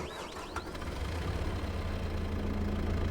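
A Kubota M6 tractor engine idling in Farming Simulator 22, a steady low rumbling drone with a constant chug that continues throughout, close and fairly loud.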